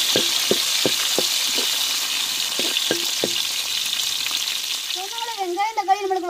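Tomatoes and onions frying in a pan for sambar, a steady close sizzle with a few short stirring knocks early on, then a brief high tonal squeal near the end.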